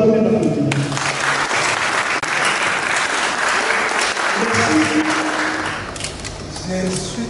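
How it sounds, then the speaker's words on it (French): Audience applause at a public event, loud and sustained with crowd noise, while a voice speaks over the start and end of the clapping. "notre papa, l'honorable Batamou, que je vous demanderai d'applaudir."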